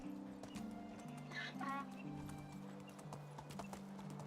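Horse hooves clip-clop at a steady, even pace in the medieval game Medieval Dynasty, with sustained background music underneath and a brief higher call partway through.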